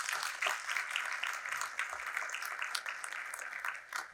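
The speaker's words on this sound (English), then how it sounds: "Let's give everyone a round of applause." Applause from the audience at a candidates forum hosted at the University of South Carolina Lancaster, a fairly faint, distant patter of many hands clapping steadily for about four seconds.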